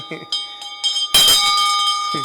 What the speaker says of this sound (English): So today they ring the bell.